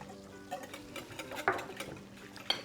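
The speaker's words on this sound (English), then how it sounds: "I'm gonna add the flour and stock mixture while I whisk" A whisk works a flour and stock mixture into pan drippings from a roasted turkey, giving soft, quiet scraping and swishing with a few light metallic clinks against the pan.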